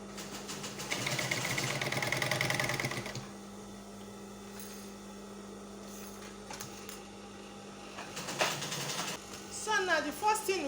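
Sewing machine stitching a crossbody bag with multiple pockets runs in a loud buzzing burst, then quieter mechanical rattles and handling follow before a short second burst near the end.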